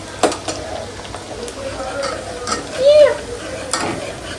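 Onions fry and sizzle in a pan while being stirred, with soft scraping and clattering stirs over a low frying hiss, close by, alongside faint voices.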